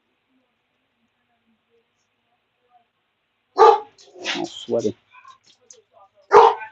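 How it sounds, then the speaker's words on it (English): A dog barks excitedly in a few loud, sharp bursts after a quiet stretch, with a person speaking briefly between the barks. "My dog going bananas."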